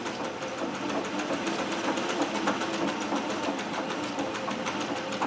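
A treadle-powered Singer 411G sewing machine with a custom balance wheel runs at speed, a rapid, even needle clatter repeating many times a second over a low mechanical hum, close and continuous without voices.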